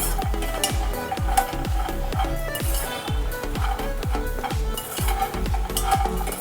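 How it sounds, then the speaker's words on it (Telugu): Fox nuts (makhana) frying in a pan and stirred nonstop, a dense rattling sizzle with rhythmic spoon scrapes roughly every half second, close and loud. "ఈ కూల్ మకానా వేసిన తర్వాత ఇలా కలుపుకుంటూనే ఉండాలండి, లేదంటే అడుగున మాడిపోతాయి ఇవి"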